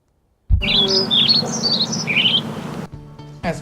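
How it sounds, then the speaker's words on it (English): Birds chirp in the woods, with a quick run of bright, high tweets over a soft outdoor background, ending in a brief rustle. "hearing birds chirping and leaves rustle"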